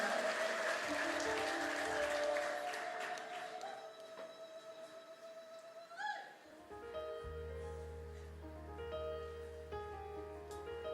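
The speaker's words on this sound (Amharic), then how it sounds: "እልልታ ጭብጨባ ለጌታ ይሁንለት።" A worship congregation applauds for the Lord during a praise service. The clapping is fairly soft and fades after a few seconds into sustained music.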